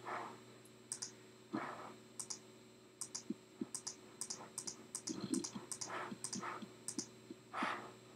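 A computer mouse clicks repeatedly at close range, sharp dry taps coming in uneven bursts and singles over a quiet background hum, with no talking.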